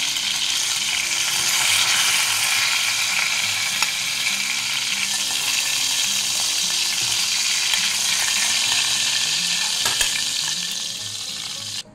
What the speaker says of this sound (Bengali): মাছগুলো ভাজা হয়ে গেছে, খুব বেশি ভাজবো না আর খুব একদম নরমও রাখবো না